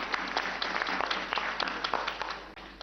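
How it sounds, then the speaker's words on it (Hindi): An audience at a quiz show claps for the history department, a dense, even burst of applause from many hands, fairly distant and continuous without speech. "उत्तर बिल्कुल सही, तालियां बजाइए इतिहास विभाग के लिए"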